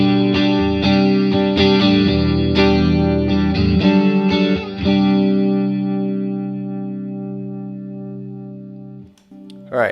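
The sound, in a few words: guitar through Swindler Effects The Gulf chorus/vibrato pedal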